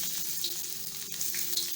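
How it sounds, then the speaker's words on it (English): Onions fry in hot oil for Ugandan-style egg fried rice, a steady close sizzle with a few faint pops and crackles, no speech. "as the oil starts flaring, we're going to add some. We're going to start with some onions"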